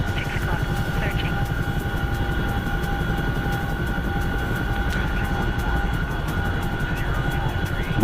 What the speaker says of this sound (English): I've been flying this helicopter a lot tonight.